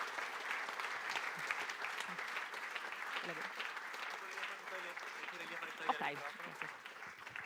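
Audience applause for a speaker at a tech meetup talk night, a steady dense clatter of many hands clapping throughout, with a short spoken word from a host over it.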